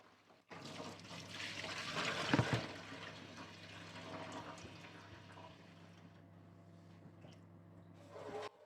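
Tap water runs steadily into a kitchen sink while a whole turkey is rinsed and rubbed clean, a continuous close splashing rush with a brief louder gush near the middle and no talk.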